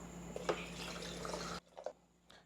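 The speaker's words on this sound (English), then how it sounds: "Pour some water." Water poured into a blender jar holding ice and a dash of milk makes a brief, soft trickling stream over a low hum for about a second and a half, followed by a few quiet taps.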